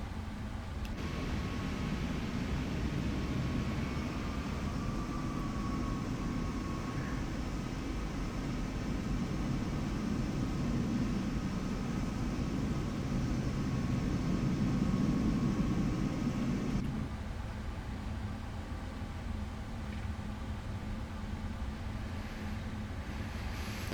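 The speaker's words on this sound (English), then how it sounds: "now the airplane is taxiing right down the middle" A PMDG Boeing 777F freighter taxis in Microsoft Flight Simulator 2024, a steady broadband engine rumble and hiss that holds level for about seventeen seconds, then drops to a quieter idle hum.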